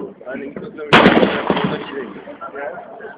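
A sudden loud police gunshot followed by a rumbling echo, heard amid a busy background.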